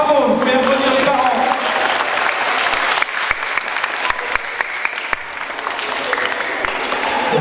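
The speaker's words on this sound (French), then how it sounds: "vous pouvez applaudir les parents." A crowd applauds parents at a school workshop event, steady clapping filling the room throughout, with a voice briefly audible at the start.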